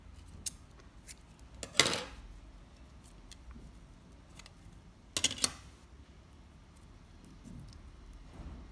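Scissors snip through ribbon while ribbon flowers are made, with two crisp close cuts standing out in a quiet room, plus faint handling rustles in between.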